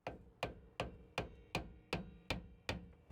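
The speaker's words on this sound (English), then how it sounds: "we'll take a rubber mallet, hit on it." Rubber mallet striking the rear differential cover of a 2015-2020 Ford F150, eight evenly spaced dull thuds about every 0.4 seconds, close and fairly loud with no talking.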